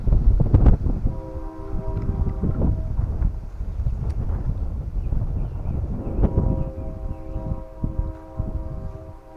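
A train passes near a rural cemetery in Winfield, Kansas: a steady, heavy rumble of rail cars with a sustained horn tone drifting in and out, buffeted by wind noise on the microphone throughout.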